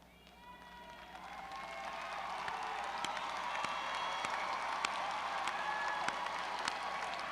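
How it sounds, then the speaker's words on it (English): A graduation ceremony audience applauds the standing 2017 graduating class at FAMU, sustained clapping from a large crowd that swells and holds steady, with scattered louder claps, some cheering and faint voices, heard from a distance. "Please join me in giving our newest FAMU donors a round of applause"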